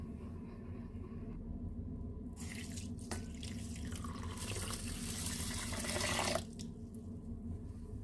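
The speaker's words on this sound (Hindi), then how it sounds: "अब मैं इसमें पानी डाल के वॉश कर लूँगी।" Water from a tap pours into a bowl of masoor dal to rinse it, a steady close splashing rush that builds for a few seconds and then stops abruptly, with quiet kitchen sounds around it.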